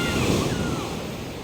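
Broadband wash of sea waves rolling onto a beach of fine sand on Baluti Island in the Philippines, steady and fairly loud with some wind noise, no voices.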